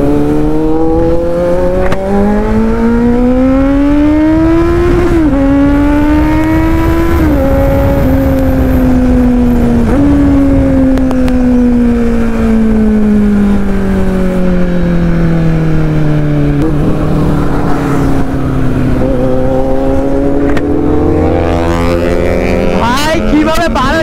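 A Kawasaki Z900 motorcycle screams loudly on a highway, its engine pitch climbing through several gears with sharp drops at each shift, then a long falling note before it revs hard again, over constant wind roar.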